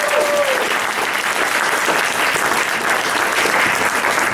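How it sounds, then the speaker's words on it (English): An audience gives a loud, sustained round of applause for women who marched, a thick continuous wash of clapping that stays full and even from start to finish. "Give a bigger round of applause."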